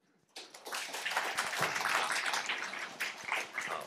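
An audience at a Lunar New Year gathering in the Dashi Hall of a temple in Zhongshan applauds to welcome the master. Clapping starts abruptly after a brief silence and holds as a steady, moderately loud patter.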